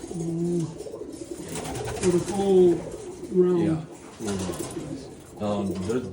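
Roller pigeons cooing in a loft, repeated soft throaty coos close by in several short bursts, with someone talking over and between them.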